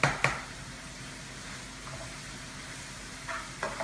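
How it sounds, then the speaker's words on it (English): Pasta being stirred in a pan with oil and vegetables such as arugula, spinach and garlic, giving a soft sizzle with a couple of clanks at the start and light scraping near the end. "We're going to give our pasta a quick stir"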